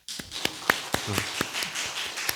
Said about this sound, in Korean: 박수 칩시다.